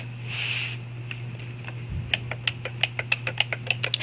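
The touchpad buttons on an HP Pavilion dv6-6110us laptop click sharply and close up, a run of about a dozen quick, evenly spaced clicks after a brief lead-in.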